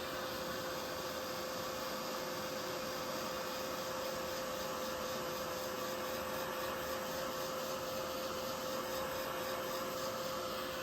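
A heat tool blows steadily to dry a handmade wintry seasonal card, front and back: a continuous, loud whooshing drone with a faint high whine, unbroken for the whole stretch with no talk.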